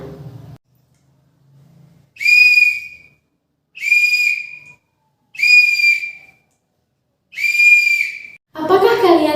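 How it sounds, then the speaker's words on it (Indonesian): A handheld whistle is blown four times in evenly spaced, sustained high-pitched blasts, clear and close, with silence between them and a brief voice at the start and end. "Ibu punya suatu benda namanya peluit."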